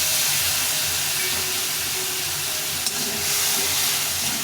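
Spices with tomato, ginger, cumin and chilli powder fried in a pan for a cauliflower dish, a loud, steady sizzling hiss that lasts throughout.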